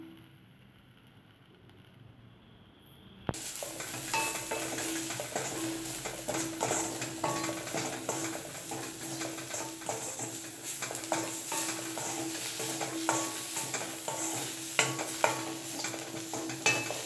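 Mint chutney ingredients sautéing in a pan with salt added, a quiet lead-in giving way to a steady close sizzle with scattered stirring scrapes and clicks throughout.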